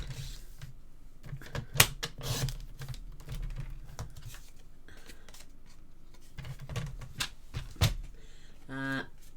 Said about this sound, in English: the Stampin' Up trimmer's okay, but look what it does to your paper.